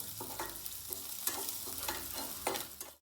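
Onions fry in a pan while being stirred, a soft continuous sizzle broken by several scraping stirs at irregular intervals, close but fairly quiet.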